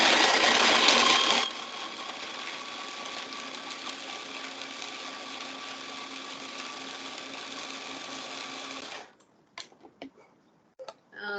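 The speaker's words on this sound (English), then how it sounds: "I like to process the nuts first to make sure that they get nice and ground into small pieces" A food processor grinds nuts and dates in a loud, steady whirring burst that eases slightly after a second or so, runs several seconds, then cuts off, followed by a few small clicks and knocks.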